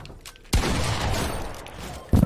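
Two shotgun blasts in a video game, close and loud: the first booms and rumbles away over almost two seconds, and a second sharp shot cuts in at the very end.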